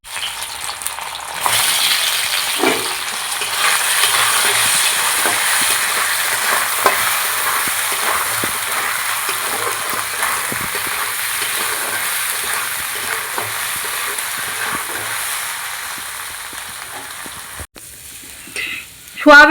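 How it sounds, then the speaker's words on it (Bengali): Soybean chunks fry in a pan of hot oil, giving a steady loud sizzle with scattered stirring scrapes and clinks; the sizzle drops briefly before a short burst of spoon noise ends it. "এর ভিতরে আমি সয়াবিনগুলো ভেজে নেব।"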